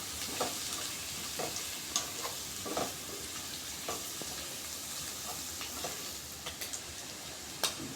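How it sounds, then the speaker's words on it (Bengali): Vegetables and cauliflower fry in a pan for chowmein, a steady sizzle broken by sharp scraping clicks from stirring at irregular intervals, close and without talk. "সবজিগুলোকে ভালো করে ভাজতে হবে। একটু সময় নিয়ে ভালো করে ভাজতে হবে।"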